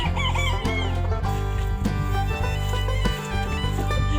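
Chickens in a hen house, loud close clucking and crowing from a rooster, a busy continuous flock with overlapping calls and no talk.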